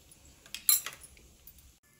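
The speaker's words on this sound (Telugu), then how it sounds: "ఇప్పుడు ఒకసారి అయితే కలుపుకోవాలి." Spoon clinking against a bowl while gongura chutney is stirred, a brief cluster of close metallic taps and scrapes in the middle of a quiet moment.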